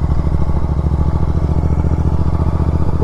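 Royal Enfield Continental 650 motorcycle fitted with an aftermarket Red Rooster exhaust, running with a loud, steady throbbing engine note close by, continuous for a few seconds without talk.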